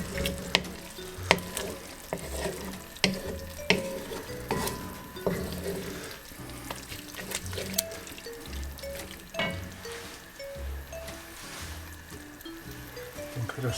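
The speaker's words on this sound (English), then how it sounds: "Just going to break this fish up a bit more." Mackerel being broken up in a cooking pot for mackerel rundown, a soft bubbling simmer with repeated scraping and knocking of a spoon against the pot, fairly close and without talk.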